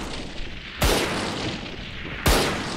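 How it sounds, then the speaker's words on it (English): Two sharp gunshots in the video game Valorant ring out about a second and a half apart, each a loud crack with a booming tail over a steady background hum. "Why am I hearing gunshots?"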